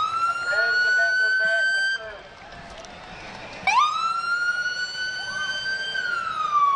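Georgia State Patrol motorcycle sirens wailing at a St. Patrick's Day parade in Savannah, a loud rising and falling tone that drops out briefly, then restarts with a sharp upward sweep, close by.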